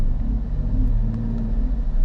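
Manual car engine idling steadily while held on a hill by balancing throttle and clutch, a constant low rumble with no audible speech throughout.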